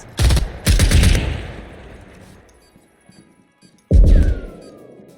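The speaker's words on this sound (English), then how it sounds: "That's by that shotgun." Heavy shotgun blasts ring out in an online shooter match: two booming shots close together, a fading tail, then a third loud blast after a pause.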